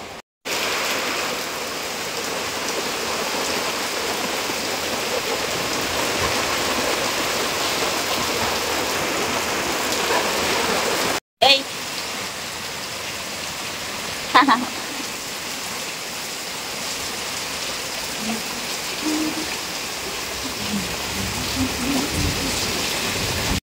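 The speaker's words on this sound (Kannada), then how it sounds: "ಇನ್ನು ಕೂಡ ಮಳೆ ಮುಗ್ದಿಲ್ಲ." Heavy rain pouring down in a village, a loud, constant roaring hiss of drops on surfaces with a brief cut and a single sharp knock partway through.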